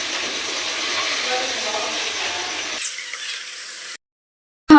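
Chicken frying with masala in a pan gives a steady, loud hiss that softens and changes after a few seconds, then cuts to silence.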